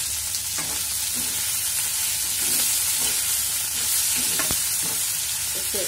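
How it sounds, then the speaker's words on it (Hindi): Green chillies fry in a hot pan with a continuous loud sizzle, punctuated by a few sharp scraping stirs of a spatula, heard close with no speech. "इसे 1 से 2 मिनट भून लेते हैं"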